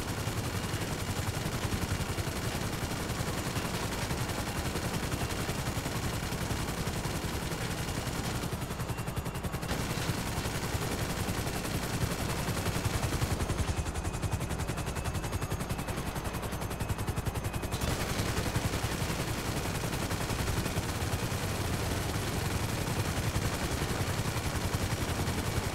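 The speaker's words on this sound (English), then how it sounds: "I shoot it out of the air." Sustained gunfire in GTA V, a dense continuous clatter of automatic shots with a few brief lulls, loud and steady throughout with no talking.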